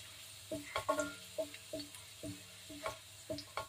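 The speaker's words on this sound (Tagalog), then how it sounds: "Fry muna natin ang garlic" Garlic frying in a pan, soft sizzling punctuated by a regular series of light clicks and taps from a utensil stirring, quiet and close with no talking.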